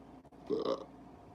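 A single short, throaty burp from a person during a live stream, close and fairly loud, set against quiet room tone.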